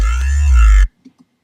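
Heavy distorted synth bass with a pitch envelope shaping its attack; one loud, buzzing sustained note lasting under a second, then stopping abruptly, with no voices.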